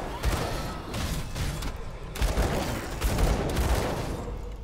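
Rapid gunfire and fiery blasts from a Demolitionist/Occultist character in the action RPG Grim Dawn, a dense, loud barrage of overlapping shots and bursts running continuously with brief surges.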